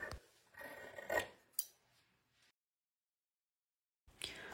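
Crisp close snips of scissors cutting fabric for a baby's fitted sheet, a few quick cuts and rasps over about two seconds, then silence before another short snip.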